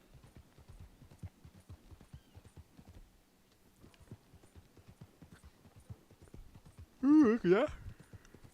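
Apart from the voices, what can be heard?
pony hooves clip-clopping in a video game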